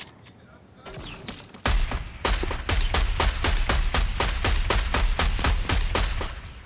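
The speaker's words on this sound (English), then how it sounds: "Time to get out the automatic sniper." An automatic sniper rifle fires in the Fortnite video game, a few scattered shots followed by a long, loud, evenly spaced burst of rapid gunfire.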